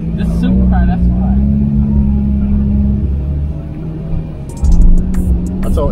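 A Porsche GT3 supercar with a PDK gearbox pulls away, its engine rumbling and building under nearby voices, with a louder surge near the end.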